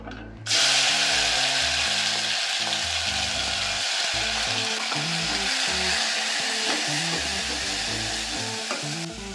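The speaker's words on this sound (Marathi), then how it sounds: "तेल गरम झालंय, मी आता हा हिरवा मसाला" Green masala paste hits hot oil in a pan and sizzles loudly and steadily, a dense continuous frying hiss close up, with faint scraping and mechanical clatter underneath.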